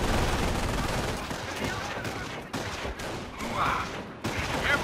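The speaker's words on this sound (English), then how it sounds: "Oh god, we're being targeted by mortars" Mortar blasts and rattling gunfire from the Company of Heroes strategy game roll on in a dense, loud barrage, with bursts and booms overlapping almost continuously and a few sharper drop-outs between volleys.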